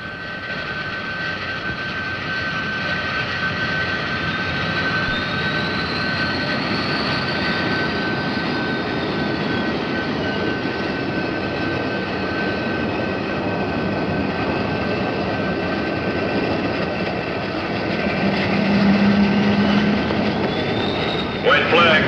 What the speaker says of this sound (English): Start jets.